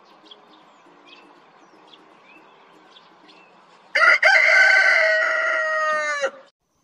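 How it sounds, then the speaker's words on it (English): Faint chirps and soft clucks in a quiet yard give way to a loud, close rooster crowing in one long, drawn-out call. "H for hen"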